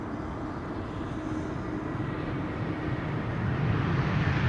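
EasyJet Airbus A320neo arriving at Amsterdam Schiphol, a steady distant jet roar with low rumble that builds gradually louder toward the end.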